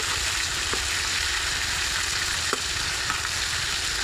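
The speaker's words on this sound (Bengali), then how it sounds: "ভাজা হয়ে গেছে, এবার একটু ভেজে নিতে হবে।" River prawns fry in hot oil, making a constant close sizzle and hiss, with a few soft clicks of a utensil and no voices.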